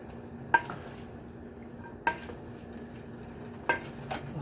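Sautéed fern stirred in a pan, with three distinct metallic scrapes and clinks of a utensil against the pan spaced about every second and a half over a soft, steady sizzle.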